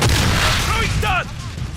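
A stun grenade goes off during a video game firefight, giving a loud, sustained broadband blast with a voice calling out over it.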